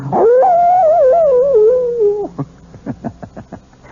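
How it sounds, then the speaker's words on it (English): A long, rising and wavering wolf howl from a radio mystery drama rings out close and loud for about two seconds, followed by a string of short, sharp yips and barks. "the wolf is not only a fascinating creature, he also does something wonderful for all lovers of mystery stories. He makes this chilling sound"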